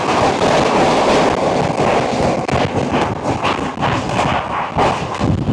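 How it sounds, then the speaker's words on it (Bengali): Jammu Tawi Express rolling into Bardhaman Junction, a loud dense rumble of wheels and carriages with rhythmic clanks and rattles throughout, no voices. "আমাদের ট্রেন এসে পৌঁছালো তার যাত্রাপথের আরও একটা স্টেশন বর্ধমান জংশন"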